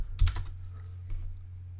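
Keys clatter on a computer keyboard as a chart title is entered in graphing software: a quick burst of several keystrokes, then a pause and a few more soft taps, quiet and close.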